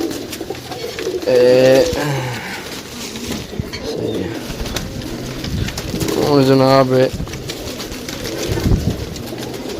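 Pigeons coo in two throaty, rolling bursts close by, with a voice speaking briefly between them over faint background noise.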